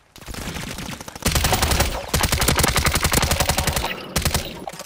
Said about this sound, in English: I'm getting shot by the other guys.